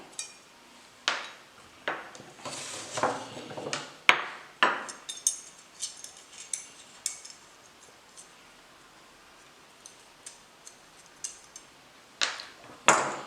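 Metal legs and bolts of a DIY hand embroidery hoop stand clink and knock while being taken apart and fitted, giving a loose run of close metallic taps and clatters with short gaps.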